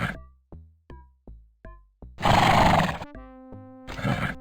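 A whinny rings out in the Touché musketeer adventure game, a loud harsh burst for under a second, then a second short blast near the end, set between plucked musical notes and a sustained tone.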